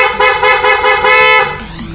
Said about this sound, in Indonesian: ini kita lanjut lagi buat upgrade klakson. Nah, ini coba kita tes buat suaranya.